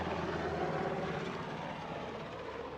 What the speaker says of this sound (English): I'm gonna let this helicopter pass through.